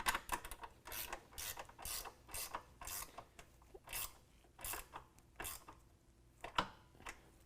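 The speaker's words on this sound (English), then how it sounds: "we can take a 13mm and start tightening everything down" A 13mm ratchet tightens the bolts on black hooped N-Fab nerf bars, giving repeated bursts of close, crisp pawl clicking in a steady rhythm of short strokes with brief pauses.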